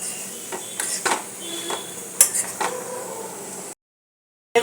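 Metal cooking pot of pumpkin curry (kumror chakka) clinks and scrapes as it is lifted off the stove, a few sharp close knocks and rattles over quiet kitchen hiss, then sudden silence.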